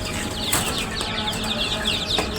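A flock of broiler chickens released from a cage makes a dense, close wash of rustling and flapping, with a few sharper bursts of wingbeats and scattered clucks.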